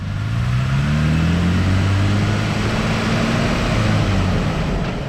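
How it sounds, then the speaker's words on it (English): A Jeep Wrangler fitted with a new Dana 44 front axle rolls forward on a residential street, its engine droning steadily and close with rising and falling whine tones and no grinding, with no talking. "Rolling forward, nothing seems to be grinding or making any crazy noises."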